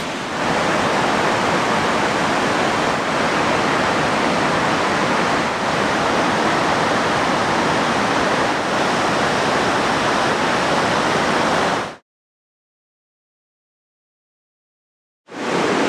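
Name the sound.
waterfall on a river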